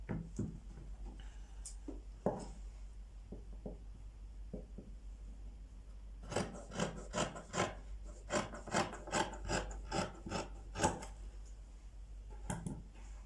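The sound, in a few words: rolling a marking line on trouser fabric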